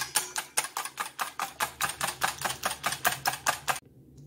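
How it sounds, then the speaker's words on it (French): Eggs are beaten with a whisk in a mixing bowl for a quiche, giving a steady run of about eighteen quick, crisp metallic taps at an even rhythm, close and alone, before stopping abruptly. "Dans un saladier, je fouette les œufs."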